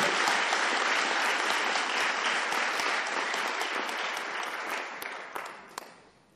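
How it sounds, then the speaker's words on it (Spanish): A church congregation applauds, dense sustained clapping from many hands that holds steady, then thins into scattered claps and fades out. "dale un aplauso, Señor"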